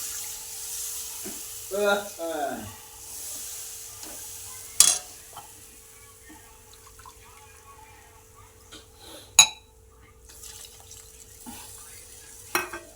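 Soaked gram flour batter with turmeric goes into a sizzling masala cooked down in oil for pithla, with a faint, low sizzle, a few sharp scrapes and stirring knocks, and a short burst of voices early on.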